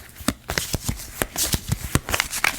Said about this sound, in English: shuffle my deck